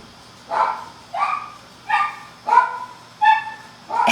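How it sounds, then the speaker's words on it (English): A young puppy yips six times at even intervals of about seven-tenths of a second. The short barks are clear and close, with no talking over them. "They brought their baby dog."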